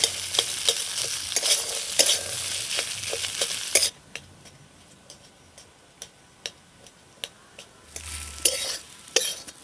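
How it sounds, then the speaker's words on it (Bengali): Potato filling for puff patties sautéed in a kadai with turmeric, chilli and coriander powder: loud sizzling for a few seconds, then sharp regular spoon taps and scrapes against the pan, close, with no talking. "অল্প একটু হলুদ গুঁড়ো লঙ্কার গুঁড়ো আর ধনে গুঁড়ো দিয়ে খুব ভালো করে এবার একটু কষিয়ে নেব"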